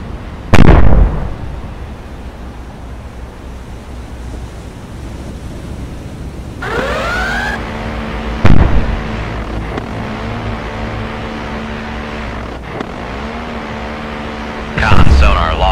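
VLS missile launch in the naval submarine game Cold Waters, with a sharp loud blast followed by a sustained rushing roar and rising whine over steady ocean and engine hum, then further thumps.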